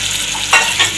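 Peeled mangoes go one at a time into a hot sizzling tempering for Konkan mango sasav: steady frying hiss with two short louder splashes of sizzle as pieces drop in, no talking.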